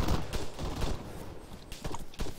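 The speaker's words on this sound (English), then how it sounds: "they're shooting tracer rounds out from that rock" Gunfire from tracer rounds in the video game Arma 3, a string of sharp cracks at an irregular, moderately fast pace, fairly close and loud, with no voices.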